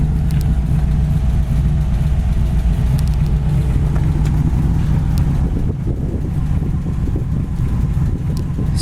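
A 1938 Ford Tudor engine idling steadily, a close, loud, low rumbling drone with small uneven pulses and a few faint clicks.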